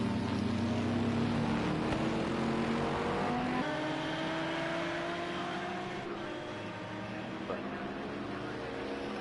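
GT3 race cars in Project Cars 2 at Zolder drone past with rising and falling engine pitch, one car's note sweeping steadily while others whine in the background, under a commentator's talk.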